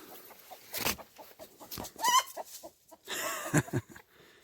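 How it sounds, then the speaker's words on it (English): Free-range chickens cluck in short bursts outdoors on a homestead, several birds nearby, with rustling and a few sharper squawks scattered through the moment. "Free range chickens."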